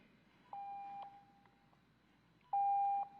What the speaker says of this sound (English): I see I'm beeping